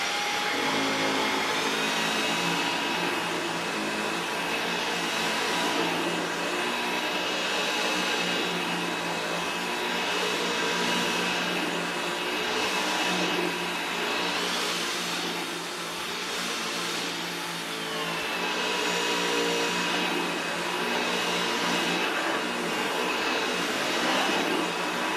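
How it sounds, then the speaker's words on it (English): A Roborock H6 cordless stick vacuum runs continuously on carpet, a loud, close, steady high-pitched motor whine with a soft rushing airflow that swells and eases as it is pushed back and forth. "So let me just demo this on this carpet and see how much dirt it picks"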